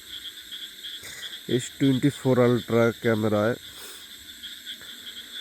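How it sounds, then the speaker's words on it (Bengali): Crickets chirp at night in a remote Bangladeshi village under a full moon, a thin steady high-pitched drone running throughout at moderate distance while someone talks over the middle. "ঝিঝি পোকার ডাকগুলো শুনলেই বুঝতে পারবেন যে আমি কতটা প্রত্যন্ত গ্রামে আছি"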